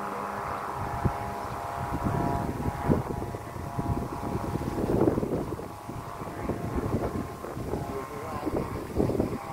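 Strong, cold wind buffets the microphone outdoors during kite flying, a continuous low roar with gusting swells. Faint voices can be heard under it.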